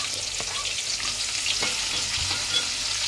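A sliced onion and black pepper frying in hot oil for beef biryani produce a continuous, even sizzle, close and moderately loud, with faint stirring knocks underneath.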